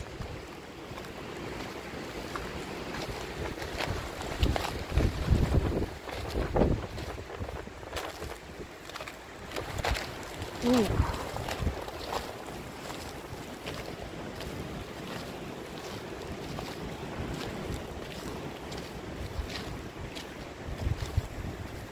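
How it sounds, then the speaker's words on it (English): Wind gusts through a forest of wild blueberries, a rough continuous rush with louder buffeting surges and some microphone wind noise, with no voices. "Maybe it's too windy, that's why."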